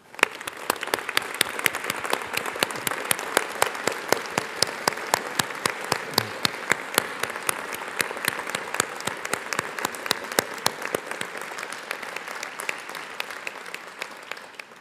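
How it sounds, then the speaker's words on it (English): Audience applause for new graduates at a university humanities and social sciences graduation ceremony, many individual claps distinct in a steady, fairly quiet and even patter that continues throughout. "it's only befitting that we give those graduates a big round of applause"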